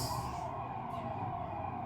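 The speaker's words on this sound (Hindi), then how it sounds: "सायरन भी बज रहा है, क्या टाइमिंग पे बज रहा है? एम्बुलेंस का बज रहा है।" An ambulance siren sounds outside, a steady, fairly loud wail held through the whole short stretch with no talk over it.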